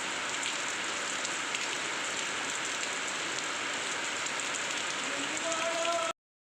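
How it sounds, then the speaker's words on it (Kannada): Steady rain falls outdoors in a village at early morning, a dense even hiss that runs without break; a faint tonal sound rises near the end. "ಮತ್ತು ಮಳೆ ಬರಾಕತ್ತೈತಿ ನೋಡ್ರಿ."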